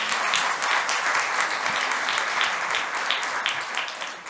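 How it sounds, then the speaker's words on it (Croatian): Sustained, loud applause from an audience at a book launch, a dense wash of many hands clapping steadily before it starts to fade near the end. "Ja vas molim jedan aplauz."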